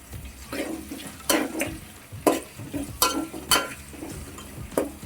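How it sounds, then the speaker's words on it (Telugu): Soft sizzling of tempering spices and onion in a pan for tomato upma, punctuated by a series of sharp scraping strokes from a utensil, roughly one every half second. "టూ మినిట్స్ ఇవి వేయించేసుకుందామండి, కొంచెం బ్రౌన్ కలర్ వచ్చేంత వరకు"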